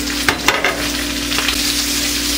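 Onions frying in hot bacon grease, a steady close sizzle with a few louder pops and stirring clatters near the start.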